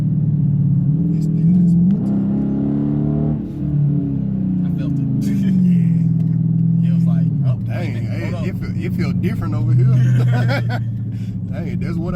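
A Dodge Challenger R/T in sport mode, driven aggressively at night, revs and accelerates in repeated rising pulls, its engine note climbing and falling under loud cabin conversation between the occupants.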